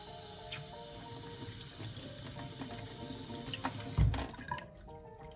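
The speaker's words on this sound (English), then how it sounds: "You can just take it and rinse it." Tap water runs steadily into a sink as a bent spoon is rinsed under the faucet, with a brief louder splash partway through before the flow eases off.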